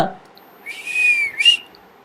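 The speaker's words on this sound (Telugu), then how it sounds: "అదే ఈల." A single clear, high whistle rising and holding for about a second, then a shorter second blast, alone against silence.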